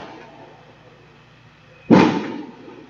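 A single loud firework bang outside, sharp and booming, rising abruptly out of a quiet room and tailing off over about half a second.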